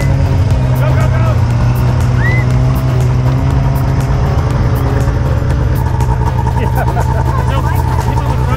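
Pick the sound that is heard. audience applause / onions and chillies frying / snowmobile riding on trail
snowmobile riding on trail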